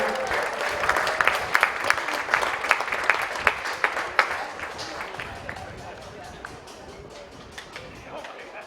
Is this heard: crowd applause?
yes